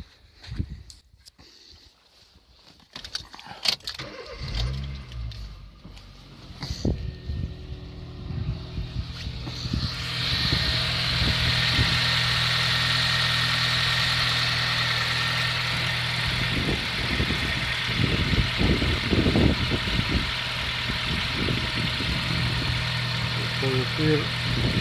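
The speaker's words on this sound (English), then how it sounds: "So let's start car." Honda Jazz (Fit) i-DSI twin spark engine cranks and starts after a few seconds of clatter, then settles into a steady, loud, close idle that runs on without a break.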